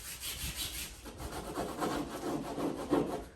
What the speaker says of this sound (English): I'm really getting the tape onto this surface, into the nooks and crannies.